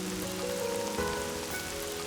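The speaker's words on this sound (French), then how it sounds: "il pleut vraiment des cordes ici" Heavy rain pours in a dense, even hiss that stays steady throughout, with faint tonal sounds underneath.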